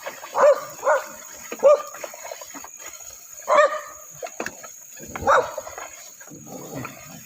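Dogs bark in short, separate bursts of one or two woofs at moderate distance, with gaps of quiet background between them.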